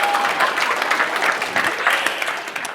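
A live crowd claps loudly to cast a vote on a fish's name, a sustained wash of applause that stays fairly even and full from start to finish.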